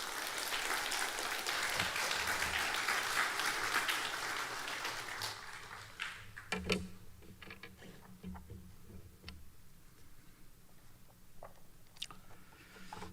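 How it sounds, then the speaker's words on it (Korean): A congregation at a Korean Sunday church service claps in encouragement, the dense applause filling the first few seconds before thinning out into quiet scattered knocks and small sounds. "뜨겁게 격려의 박수"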